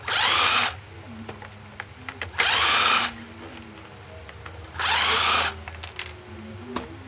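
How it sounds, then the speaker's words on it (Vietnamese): A power drill backs eight screws out of the wooden frame of a box fan, heard in three loud buzzing bursts of under a second each, with small clinks and taps between them. "mình bắn ốc này ra. Nó có 8 ốc nha các bạn bắn hết 8 ốc này ra nha"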